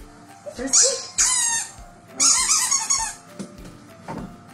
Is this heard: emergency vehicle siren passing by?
no